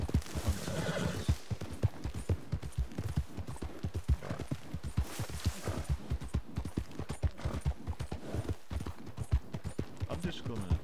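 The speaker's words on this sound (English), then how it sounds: "That's a wild horse." A wild horse in the video game Red Dead Redemption 2 neighs and whinnies repeatedly over a steady, fast clip-clop of galloping hooves, close and continuous throughout.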